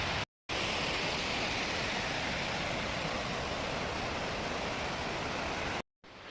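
A creek branch on a mountain trail rushes steadily in a dense, even hiss of flowing water, close and continuous, broken only by two short dropouts.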